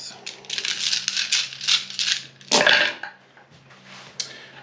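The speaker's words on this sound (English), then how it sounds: "Best sound ever here on this dice hit the wall. Yeah, that wood dice boxes are the absolute best." Handful of plastic dice rattling and clattering against the walls of a wooden dice box during a Warhammer 40,000 tabletop game, a dense rolling clatter with a sharper knock near the middle, close up and without talk.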